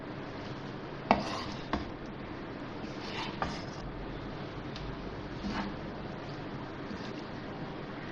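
Spaghetti being mixed in a pan, with soft scraping and a few sharp clinks of a utensil against the pan over a low, steady background, fairly quiet and without speech.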